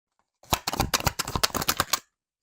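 Tarot cards being shuffled, a quick close run of crisp flicking and clacking card sounds lasting about a second and a half, with silence before and after.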